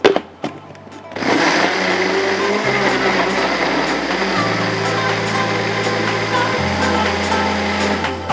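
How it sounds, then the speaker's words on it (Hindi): A kitchen blender whirs to life after a few soft clicks, blending mangoes, coconut milk and sugar with a loud, steady motor drone that shifts pitch slightly as the mixture churns. "इसको मैं ब्लेंड कर देती हूँ फ़िलहाल।"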